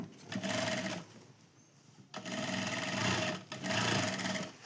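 A sewing machine stitches a hem into folded cloth for a devotional seat cover. It runs in two loud bursts, first about one second, then a longer stretch, broken by a short pause.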